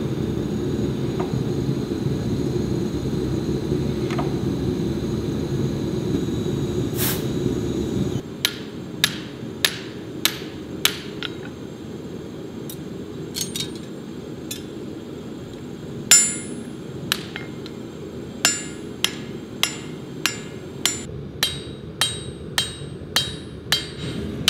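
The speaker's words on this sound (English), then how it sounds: "We're gonna take this thing into the upsetter and give it a pass." An upsetter power hammer forges a West German axe, striking in a long run of sharp, evenly spaced blows after a steady loud machine rumble. The blows land close and loud, with no talking.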